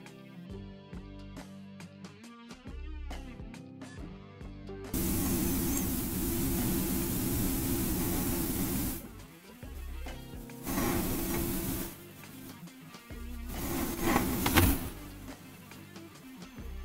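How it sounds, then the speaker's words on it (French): Kitchen blender whirring as it purees vinegar, bell pepper and habanero, loud steady motor bursts starting and stopping several times, with short pauses between pulses. "Et on va mixer vinaigre, poivron et habanero"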